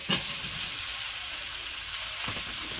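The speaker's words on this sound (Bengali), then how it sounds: "ঘি ভাজা দেবো কাঁকড়াটা" Crab frying in hot ghee in a home kitchen pan, a steady loud sizzle and hiss with a couple of brief stirring clatters, no voices.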